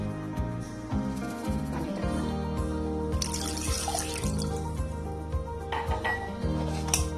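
A glass of water is poured into a pressure cooker, a continuous trickling and splashing with a few clinks of metal, close and moderately loud.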